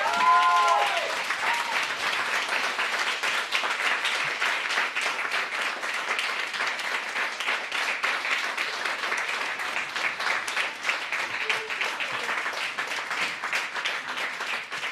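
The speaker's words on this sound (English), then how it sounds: "Big round of applause to Yuki Therese." An auction room at a Hong Kong evening sale fills with sustained applause from the audience, a dense, even wash of many hands clapping that carries on for the whole stretch, with a short voice at the start.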